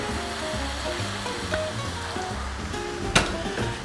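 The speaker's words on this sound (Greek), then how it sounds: "προσθέτουμε νεράκι." Water pours steadily into a cooking pot on the stove, a continuous broad rushing splash with a faint sizzle and a sharp clank near the end.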